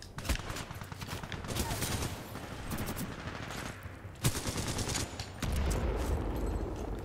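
Rapid pistol fire from a smart pistol in Titanfall 2's Live Fire mode, sharp repeated shots in bursts amid game combat noise, with one louder crack midway and a dense rumble near the end.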